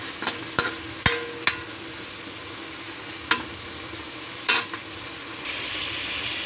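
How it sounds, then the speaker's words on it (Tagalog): Chicken pieces stir-fry in a pan toward golden brown, a soft continuous sizzle punctuated by several sharp scraping clicks of a spatula, close and without any talking. "Ihalo-halo natin hanggang sa mag golden brown na yung chicken."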